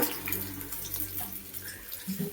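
Running tap water splashes steadily, a continuous close wash as dried shark is rinsed under the flow.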